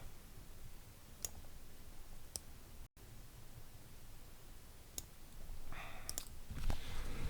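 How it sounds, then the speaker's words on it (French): A computer mouse gives a handful of sharp, separate clicks, spaced a second or more apart, against a steady low hiss of background noise. "Donc je vais cliquer sur OK."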